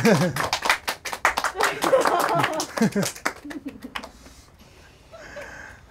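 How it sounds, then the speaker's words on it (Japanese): An audience at a hypnosis stage show claps briefly, scattered close hand claps mixed with laughter and talking voices, then fades after about three seconds into quiet murmuring. "皆さん大きな拍手をどうぞ"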